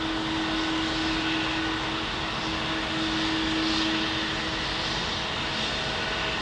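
A jet engine roars steadily with broad turbine noise and a sustained tonal whine, building slightly in intensity, close and loud.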